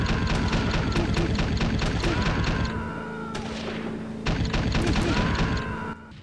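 In the video game Army Men 2, a PT boat's Vulcan gun fires in rapid, closely spaced bursts over a humming engine, with a brief pause between two long volleys.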